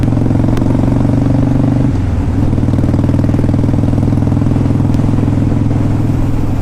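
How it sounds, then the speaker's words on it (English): A 2002 Harley Davidson Dyna Wide Glide with Screaming Eagle exhausts running close by, a loud, steady, lumpy V-twin rumble with a brief dip in revs before settling back into an even idle. "This is a really nice running bike."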